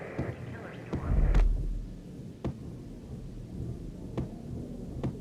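Thunderstorm in the video game Max Payne, with a deep rolling thunder rumble early on, then sharp distant cracks and rumbles recurring over steady rain-like noise and a low hum.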